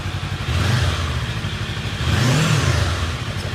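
A new Kawasaki Eliminator motorcycle, still in its break-in period, being revved up close: the engine idles with a rough throb, then climbs into a loud rev, settles, and rises again.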